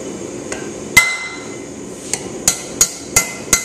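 Sharp metallic hammer strikes ring out one at a time while forging a bevel on nippers, about seven blows at uneven intervals, close and clear over a quiet background.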